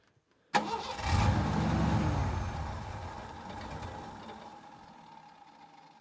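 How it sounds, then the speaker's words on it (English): A Jeep CJ5 engine on the trail cranks and catches almost instantly, then roars loud and close before sagging and stumbling toward a stall, settling into a rough, faltering idle. "So you notice how it cranked like instantly and then it almost tried to die right there?"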